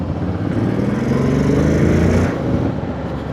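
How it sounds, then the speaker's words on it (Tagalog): Steady, rumbling motor scooter exhaust drones continuously up close, its muffler noise loud and rough with a slight rise and fall in pitch. "may ingay na yung motor, yung muffler niya eh"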